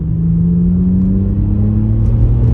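A 280 bhp BMW 130i accelerates hard, its engine note rising in a loud, close, continuous rumble and growl with no talking.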